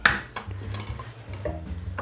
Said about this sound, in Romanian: Acum o să fac prima filtrare a supei printr-o sită deasă